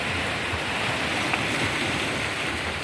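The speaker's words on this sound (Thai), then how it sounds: "เรือวิ่งผ่านเมื่อกี้ คลื่นกระแทกแบบ ตึงเลยอะ่ะ" Waves from a passing boat's wake crash against the rocky shore of Koh Larn, Pattaya, Thailand, a steady, loud wash of surf and spray with no talk, continuous throughout.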